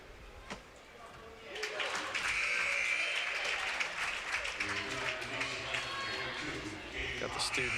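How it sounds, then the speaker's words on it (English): A student crowd at a college basketball game between the Bethel Pilots and Marian Knights cheers during senior-night free throws, giving steady applause and crowd noise that rises and holds under a commentator's voice. "Got the students out here tonight cheering on Jordan on senior night as he shoots these free throws here"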